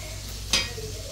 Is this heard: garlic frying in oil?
yes